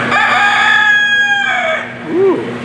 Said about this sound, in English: This one here at the front is called a blue American cock. That'd be a male chicken or rooster.